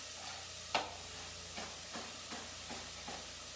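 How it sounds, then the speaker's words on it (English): Chopped leeks tipped into a pot for potato leek soup, then stirred: one sharp clattering drop followed by several soft, evenly spaced scraping stirs over a steady low hiss, with no talking. "I'm going to go ahead and get these leeks in there as well"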